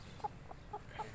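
An Aseel hen makes a few soft, short clucks, three or four quiet calls spaced within about a second over a low background hum.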